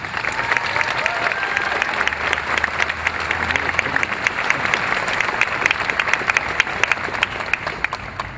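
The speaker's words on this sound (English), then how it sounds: "So please give my colleagues on the faculty a round of applause." Steady, dense applause from a large audience at a law school commencement ceremony fills the hall for several seconds, even and sustained with no pause.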